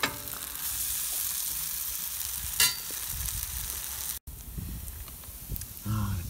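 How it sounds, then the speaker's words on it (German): Vegan patties fry in a cast-iron skillet on a wood-burning stove, giving a steady, close sizzle throughout with a brief dropout and a few clinks near the end. "ich brate hier mit so einer schmiedeeisernen Pfanne"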